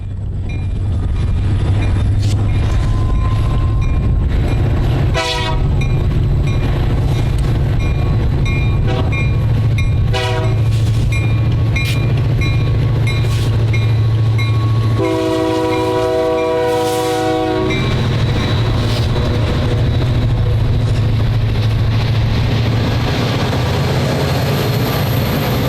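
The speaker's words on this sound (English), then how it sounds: "found manifest train Q509 west of town with the classic EMD locomotive consist for power" A CSX manifest train hauled by classic EMD SD40-2 locomotives rumbles past loudly and close, with a deep continuous roar and several blasts of the air horn, including one long sustained sounding midway.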